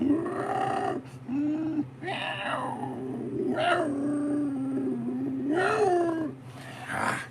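A person imitates a puma's cry with long, low, wavering yowls and growls in several drawn-out bursts, close and fairly loud over a low background hum.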